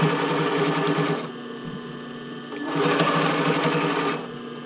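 Sewing machine stitching the band of a classic bra, running in two steady bursts with a brief slower pause between them, close and loud with no voices.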